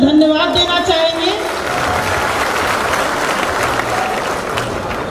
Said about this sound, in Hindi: सारे मैनेजमेंट को जोरदार ताली से धन्यवाद देना चाहेंगे